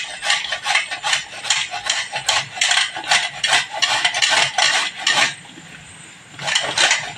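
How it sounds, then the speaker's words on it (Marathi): Peeled beetroot rubbed against a kitchen grater: rapid rhythmic scraping strokes with a slight metallic rattle, close and fairly loud, with a brief pause near the end before grating resumes. "पीठ सोलून घेतलं आहे, आता तो किसून घेणार आहोत"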